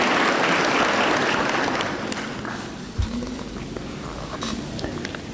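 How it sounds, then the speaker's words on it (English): A crowd at a university graduation ceremony claps steadily after a speech, loud at first and then thinning out as the applause dies down, with a few scattered claps near the end. "Let's applaud the peers again for her speech and remarks."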